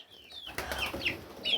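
Hens cluck softly in a coop, with a few short calls and a rising squawk, close by and moderately loud, with no voices.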